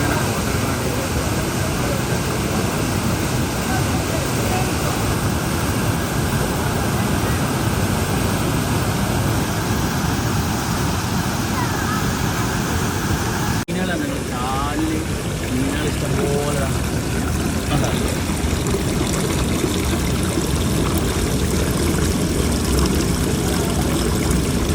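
A waterfall pours with strong, pressurised flow, a loud continuous broadband roar of rushing water that stays steady throughout.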